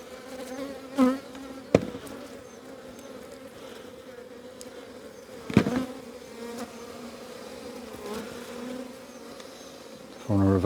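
Honey bees buzzing around an opened hive during box swapping, a steady close droning hum with several sharp knocks and clunks from handling the frames and boxes.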